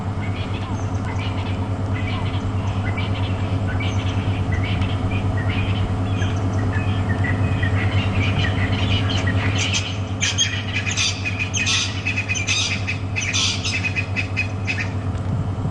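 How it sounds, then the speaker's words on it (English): Birds squawk and chirp in the background over a constant low rumble, the calls growing busier and louder toward the end. "The birds you can hear in the background."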